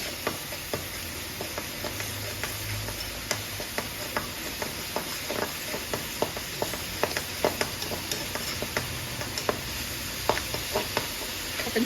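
Pork stir-frying in a pan for Thai pad kaprao, with steady sizzling under repeated sharp scrapes and clicks of a spatula stirring the meat, close and moderately loud, without speech.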